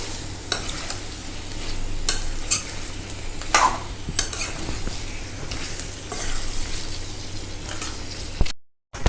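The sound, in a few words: stirring meat and papaya frying in a pan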